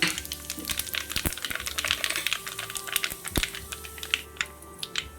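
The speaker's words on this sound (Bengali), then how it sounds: "তো তেলটা গরম হয়ে গেছে, এখন আমি দিয়ে দিচ্ছি তেলের মধ্যে কালো জিরে ফোড়ন" Nigella seeds (kalo jeere) crackle and sizzle in hot oil in a pan while making a mixed pickle, a dense run of sharp pops and spits, loud and near, with a couple of stronger knocks and no talking.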